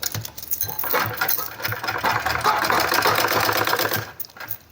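A sewing machine runs steadily while stitching around the rounded collar of a shirt for a 2–3 year old baby boy, a continuous close mechanical whirr with light rhythmic ticking.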